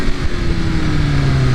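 A BMW S1000RR motorcycle engine revs hard as the cold rear tire spins, a loud, close, sustained roar with a steady, slightly rising engine tone.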